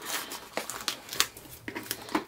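Large scissors snip and crinkle through plastic shrink wrap on an album, a string of close, sharp crackles and short cutting sounds in quick bursts.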